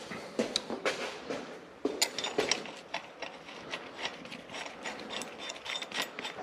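A ratchet tightens the CV axle nut on a Mitsubishi 3000GT twin turbo during a transmission and clutch install, giving quick runs of sharp metallic clicks close by.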